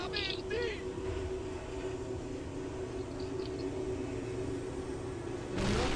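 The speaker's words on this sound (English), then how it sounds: "It's a loud train passing behind me." A loud train passes close by, giving a steady, heavy rumble that holds through the whole stretch without a break.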